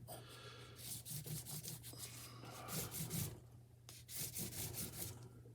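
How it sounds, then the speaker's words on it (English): Light hand sanding on a braided brass wedding band at a jeweler's bench gives continuous scratchy rubbing strokes, close and steady, with a low hum running underneath. "I'm just going to give it a little light sanding."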